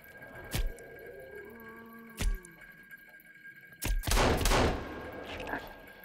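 Gunfire in the survival game Sons of the Forest, a few sharp single shots spaced apart followed by a denser burst of blasts, loud and close, with a voice speaking between them.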